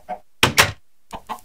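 Chickens clucking in Minecraft, three short bursts of bird clucks followed by two louder, sharper blocky game sounds, then a few more clucks, all clear and close with no talking.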